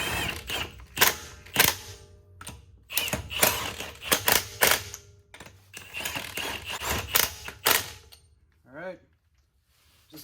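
An impact wrench rattles lug nuts onto the front wheel studs of a 2016 RAM 1500 pickup in a series of loud, short hammering bursts separated by brief pauses, with the last few seconds nearly silent apart from a faint clatter.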